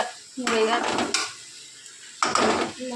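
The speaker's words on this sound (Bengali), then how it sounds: "এখানে আমি কড়াই বসিয়ে নিচ্ছি" A metal kadai (wok) is set down on a kitchen stove, making two short bursts of clanking and scraping with a quiet pause between them.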